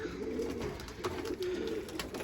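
Tumbler pigeons coo on a balcony, a close, continuous run of soft, rolling coos with repeated swelling phrases and no talk.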